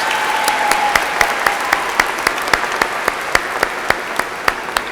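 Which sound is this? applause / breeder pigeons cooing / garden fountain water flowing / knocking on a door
applause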